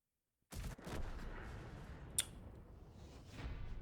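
A sudden onset of heavy, sustained booming tank cannon fire in a World of Tanks-style video game, with one sharp crack partway through, dense and loud throughout.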